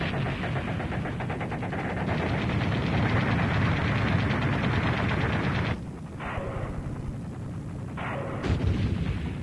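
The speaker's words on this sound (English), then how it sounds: "we proceeded to lay down some suppressive fire" A helicopter gunship lays down suppressive gunfire in Vietnam: sustained loud machine-gun fire rattles over rotor noise, then breaks off into shorter bursts near the end.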